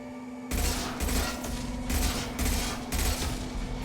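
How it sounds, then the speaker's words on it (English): Gunfire in the video game Mass Effect 2, an impact shot battle with rapid bursts of automatic fire repeating in roughly half-second clusters over a steady low hum, loud and close. "Firing an impact shot"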